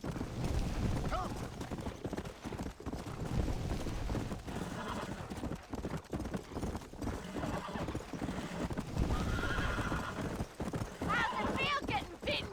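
In the video game Red Dead Redemption, hooves clatter at a gallop under constant voices and busy background sound, with a horse whinnying briefly near the end.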